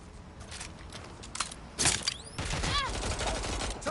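Gunfire from the game Watch Dogs Legion: a quick flurry of shots and sharp cracks with ricochet-like whines, fairly faint and mixed into game noise.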